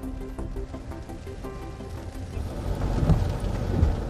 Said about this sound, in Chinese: 张彦坤的团队决定在大雨天进行一次道路测试。